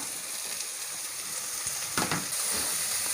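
About 200 g of finely chopped large onions go into hot oil for shark fish puttu, giving a steady soft sizzle with a brief louder crackle and hiss as they land partway through.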